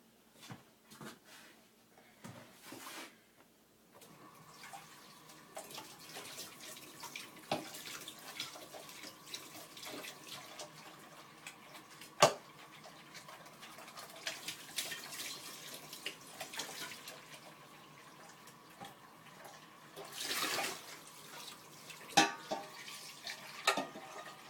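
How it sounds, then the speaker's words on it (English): Tap water runs into a kitchen sink while a bread pan is washed, a thin steady stream with knocks, clatters and a cupboard or drawer bump along the way, at moderate distance with no talking. "now I'm gonna wash out that bread pan real quick"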